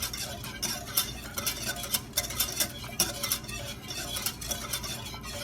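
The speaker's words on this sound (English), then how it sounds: "we want to actually stir it together for 2 minutes" A spoon stirs butter into a mixture in a pan for an apple dessert, giving a steady, close scraping and clinking rhythm with faint sizzling underneath and no talk.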